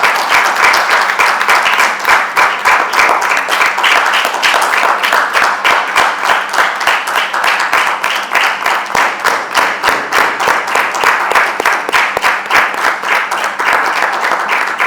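Continuous close applause fills a hall at a Mother's Day celebration held by a mothers' milk bank, many hands clapping loudly with a slight rhythmic pulse throughout.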